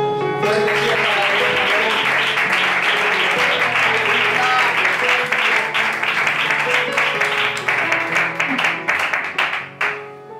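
Sustained applause from a church congregation fills the room at full volume, with sung or spoken voices and musical tones woven through, before the clapping thins into scattered claps and fades out at the end.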